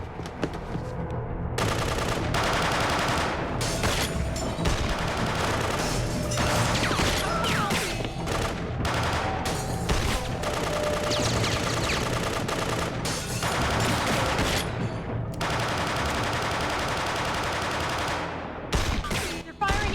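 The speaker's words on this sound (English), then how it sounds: "They're firing at each other." In the video game 24: The Game, a sustained exchange of gunfire rattles on, with bursts of automatic fire and single shots overlapping loudly, a few brief gaps, and clanking impacts throughout.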